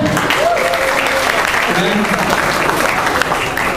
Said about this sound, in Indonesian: Beri tepuk tangan untuk Planet Hollywood ya.